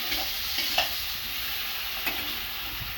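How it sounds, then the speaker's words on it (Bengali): Potatoes frying in a pan in a home kitchen, a steady soft sizzle with occasional light clicks and stirring knocks, close and without talk. "তাই জন্য আলুটা ভাজছি"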